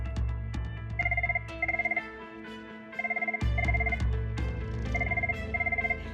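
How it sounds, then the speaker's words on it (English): Office telephone ringing with a repeated electronic double-burst tone, three pairs of bursts over a steady low hum of background music, loud and close. "Oh, we got a phone call."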